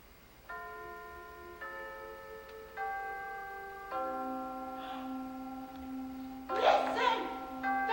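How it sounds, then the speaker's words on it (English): Church bells rung as a stage sound effect at a high school play, a series of tolling strikes each ringing on with long sustained tones, the last strike heavier and louder. "Listen, the church bells."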